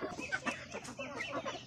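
Native chickens on a Philippine farm cluck in short, soft bursts, several birds close by and fairly quiet, in a brief stretch with no talk.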